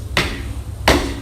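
Two sharp footfalls from a swing-dance rock step land about 0.7 seconds apart, each a crisp thud-like tap on the floor, heard alone.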